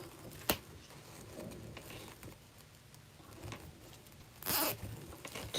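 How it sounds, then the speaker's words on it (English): A zip tie is pulled tight while attaching deco mesh pieces to a snowman character board, giving a brief sharp ratcheting zip near the start and another longer rasping pull later, close and otherwise quiet. "And I'm going to do my zip tie up."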